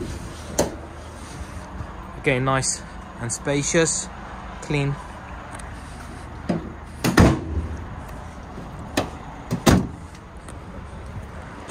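A 2019 Vauxhall Vivaro van's rear doors are opened with several sharp latch clunks and thuds spread through the clip, while someone talks nearby.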